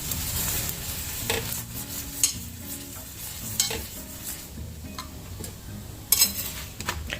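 Paratha frying on a hot pan gives a steady, close sizzle with soft scraping and a few sharper taps and clinks, and no talk.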